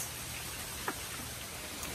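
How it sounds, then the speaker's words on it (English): Steady rain falls outdoors on a wet day, a continuous soft hiss of drops on surfaces with one brief louder patter, no talking. "This is perfect reading weather. Am I right? Y'all enjoying the rain?"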